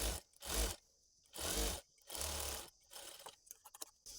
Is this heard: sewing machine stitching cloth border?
yes